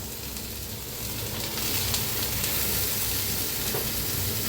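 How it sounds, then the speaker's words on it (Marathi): Chopped onion and tomato fry in a pan with a steady, close sizzle that rises slightly and holds for several seconds, with no talk over it. "कांदा हलकासा भाजत आलाय, त्याच्यातच टाकूया टमाटर"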